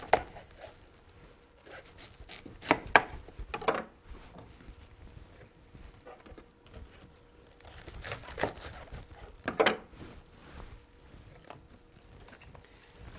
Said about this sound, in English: Cut the cabbage into quarters. And remove the core.